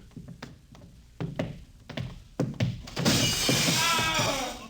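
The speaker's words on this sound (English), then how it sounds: "The plates, the photographic plates, they're all smashed." Radio-drama sound effect of glass photographic plates being smashed: a series of sharp knocks and thuds, then a loud crash of breaking glass that rings on for a moment.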